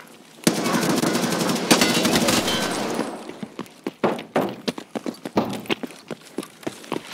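Gunfire rings out in Escape from Tarkov at the Factory map, starting with a loud sustained burst and then a run of sharp, separate shots that fade into an uneven rhythm, close and with no talking.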